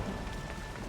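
Rain falling in the video game Assassin's Creed Odyssey, a soft continuous patter and hiss with a low rumbling undertone, heard alone and fairly quiet.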